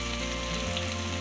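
A clove of garlic shallow frying in oil with cumin and turmeric, a brief dense steady sizzle heard up close with no pauses.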